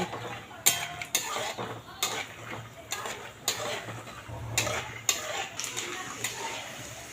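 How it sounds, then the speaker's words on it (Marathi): Peanuts being stir-roasted in a pan for bhadang, with repeated scraping clatters of a spatula against the metal pan in an uneven rhythm and soft rattling of nuts between strokes. "चांगले ब्राऊन होईपर्यंत आपल्याला परतवायचे शेंगदाणे"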